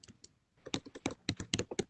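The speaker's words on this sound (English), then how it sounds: "I was typing to get that" Typing on a computer keyboard: a quick, irregular run of close, crisp key clicks that begins sparsely and grows denser, with no voices.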